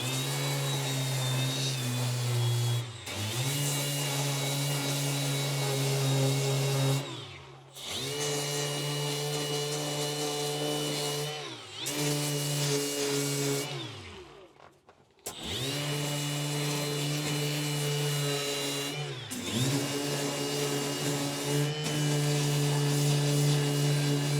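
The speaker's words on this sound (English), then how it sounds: "this is 80 grit on a dual action sander" A dual action sander with 80 grit sandpaper works a car part from an early second-generation Camaro center console, a loud, close droning whir that runs in several long bursts, dipping and restarting between passes.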